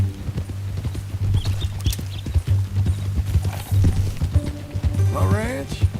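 Horse hooves clip-clop steadily in the Red Dead Redemption 2 video game, a brisk repeated rhythm under a low droning engine-like hum, with a brief whinny near the end and voices talking over it.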